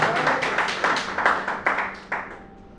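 Scattered audience clapping at a Hindi poetry gathering on stage, a few loud individual claps standing out over a steady patter of hands, fairly close and without talk.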